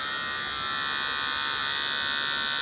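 Electric hair clippers fitted with a comb guard buzzing steadily and loudly throughout during a home haircut, with no talking.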